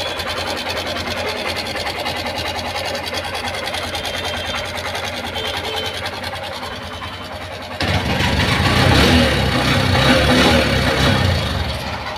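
A faulty Honda Shine SP BS6 motorcycle engine that will not pick up speed idles roughly and unevenly, sputtering, then surges louder and harsher near the end, rattling with an irregular mechanical buzz.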